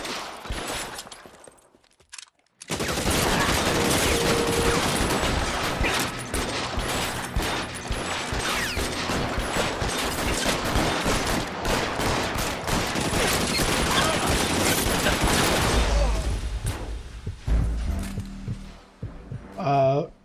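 Gunfire in the video game L.A. Noire, a dense sustained fusillade of rapid crackling shots for over ten seconds after a quiet start, tapering into scattered reports and mechanical clicks.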